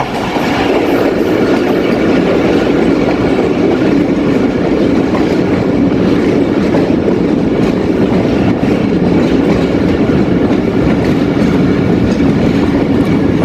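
Jaffar Express passenger train rolling through a tunnel between Quetta and Kolpur in Balochistan, a loud, steady enclosed roar with continuous rhythmic clickety-clack of wheels on rails throughout, no voices.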